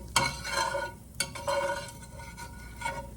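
A spatula scrapes and stirs four large scrambled eggs in a hot skillet, a close scraping rasp over a soft steady sizzle, coming in a few quick strokes.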